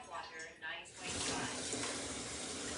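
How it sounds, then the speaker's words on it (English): Tap water gushes from a faucet in a steady, close rush that follows a moment of talking and then continues without a break. "This is tap water."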